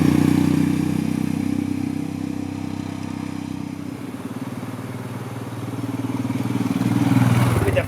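A Royal Enfield Himalayan motorcycle cruises along quiet, twisty valley roads in the Basque Country, its single-cylinder engine a steady, loud, close drone with a low thumping pulse that swells slightly toward the end, with no talking.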